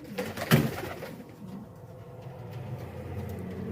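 Pigeons coo on a rooftop, one soft throaty call rising near the start over a low steady background hum, then quieter murmuring.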